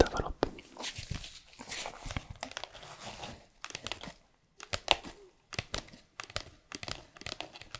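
An old envelope being handled and opened, with paper crinkling, tearing and rustling in close bursts between pauses, alongside soft speech.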